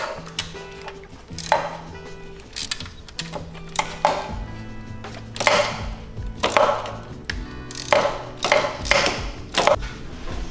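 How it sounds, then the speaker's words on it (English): A ratchet with a 10 mm socket removes a stud during a flex fuel kit install on an Audi C7 4.0T. It gives bursts of quick, close metallic clicks in irregular runs with short pauses, without talk. "you're gonna have another 10 millimeter again to remove the stud itself"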